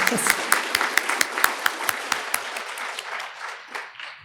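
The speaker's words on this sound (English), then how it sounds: "Let's give them a round of applause after each one." A crowd at a faculty awards ceremony applauding with sharp, rapid claps that gradually thin and fade toward the end.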